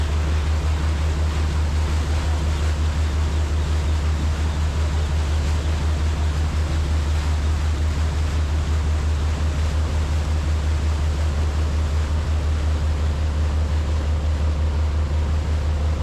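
A fiberglass boat's engine drones loud and constant with a deep steady hum, mixed with broad rushing noise, and no speech.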